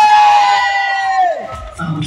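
A seaside holiday-park show audience at Great Yarmouth cheers and whoops loudly for the 90s, a sustained crowd roar with a high shrill whistle or shout on top that fades after about a second and a half.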